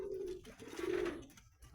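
A pigeon in a high-flying pigeon loft gives a short, close, soft coo lasting under two seconds, with a low throaty hum that swells and fades against a quiet background.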